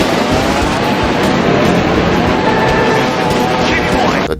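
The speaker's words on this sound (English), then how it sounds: "The dirt bike sound is irritating" A dirt bike engine in the Moto Racer racing game, droning at a steady high pitch with a constant buzzing whine throughout, heard under a talking voice.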